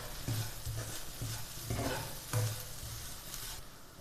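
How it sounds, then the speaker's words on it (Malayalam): A spoon stirs a banana mixture with ground cardamom in a hot pan, making rhythmic soft scraping thuds over a low, steady sizzle, close and without talk. "ഏലക്കപ്പൊടിയും ചേർത്ത് നന്നായിട്ട് ഇളക്കി യോജിപ്പിച്ചെടുക്കാം"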